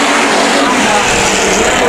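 A race car howls at speed during a heat race at Bakersfield Speedway, a loud continuous roar with broad noise, while a commentator talks over it.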